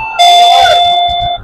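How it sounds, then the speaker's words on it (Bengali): A wireless remote calling bell rings once, close and loud, with a bright sustained electronic chime lasting just over a second before cutting off. "যেটা কলিং বেলের মূলত সাউন্ড, ওই সাউন্ডটা আপনারা শুনতে পাচ্ছেন।"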